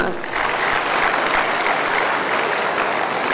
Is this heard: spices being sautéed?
no